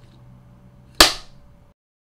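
A single sharp clapperboard clap, loud and close, ringing briefly in a quiet room before fading out.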